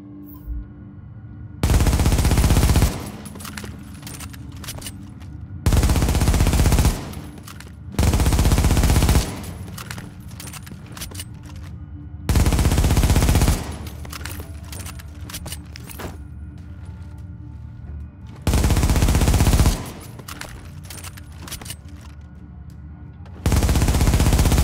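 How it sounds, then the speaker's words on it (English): An MP7 submachine gun in The Division fires six loud sustained automatic bursts, each about a second or two long, with pauses of a few seconds between them, and no talk. "Here is a quick example of an MP7 without any hip fire bonuses"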